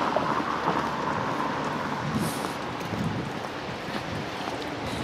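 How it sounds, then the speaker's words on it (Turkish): Very light rain falls outdoors on a city street, a steady, even hiss of drizzle with no talking, continuous throughout. "Çok hafif yağmur siliyor."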